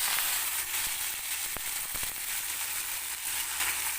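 Mustard seeds and curry leaves sizzling in a little hot oil for a tempering, a loud close continuous sizzle with a few sharp pops and crackles scattered through it.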